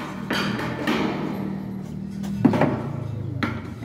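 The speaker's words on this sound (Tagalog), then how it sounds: "Pupukin mo na martilyo." A hammer strikes a rivet in a few heavy, irregular blows, loud and close, with a voice talking between the hits.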